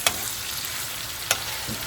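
Sucuk (Turkish sausage) sizzles and crackles steadily in a hot pan, with a couple of sharper pops over the continuous hiss.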